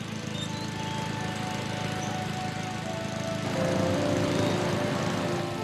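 The engine of a riding lawn mower runs at a steady drone that gets a little louder and rougher about halfway through, with no talk over it.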